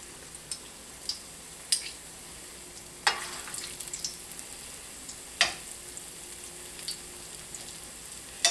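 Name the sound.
squash fritters sizzling in a cast iron skillet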